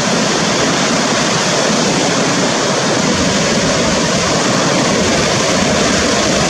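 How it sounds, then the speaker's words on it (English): Continuous roaring wash of breaking ocean surf, loud and dense, with no pauses or voices, like standing near the shoreline. "even these waves right now are impressive"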